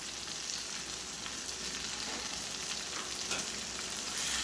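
Mint, coriander and curry leaves sauté in a pan with a steady, close, soft sizzle and frying crackle that continues throughout, no talk over it.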